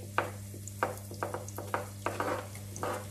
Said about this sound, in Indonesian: itu sekarang udah panas ya minyaknya ya. Aku akan masukin si bawang merah, bawang putih.